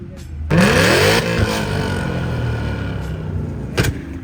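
Ford Mustang revving hard and popping exhaust flames beside a Nissan GTR, a loud close burst of engine roar that eases into a steady rumble with a brief crackle near the end.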